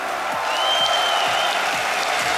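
An esports crowd at DreamHack Winter 2014, during a CS:GO championship grand final, applauds and cheers as one steady roar of clapping that fills the hall without letup.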